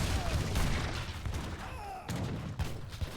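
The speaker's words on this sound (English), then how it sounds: "huge cannonball killing 3 infantry units there" Cannon fire and musket volleys boom through a real-time strategy battle, several heavy thuds and cracks spread across a dense, noisy mix of battlefield din.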